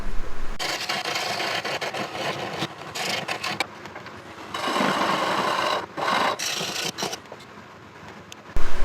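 Rosewood is worked by hand to form a shallow mortise, a loud, close, rasping scrape in long uneven strokes with short pauses between them and no talk.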